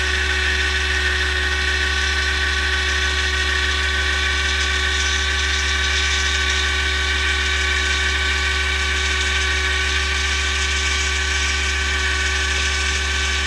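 A Yaesu G-1000DXC antenna rotator turns with a loud, steady motor hum and whine carrying strong low tones, unchanging for the whole stretch with no voices over it.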